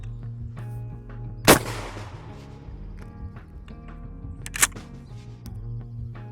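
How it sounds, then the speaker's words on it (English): Two sharp shotgun blasts from a Mossberg Bantam 20 gauge firing rifled slugs at a bulletproof vest ring out over faint background hum, a few seconds apart. "here's my son's Mossberg Bantam 20 gauge rifled slug"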